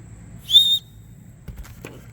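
A survival whistle gives one loud, shrill blast lasting about a quarter second. A few faint handling clicks follow in otherwise quiet surroundings.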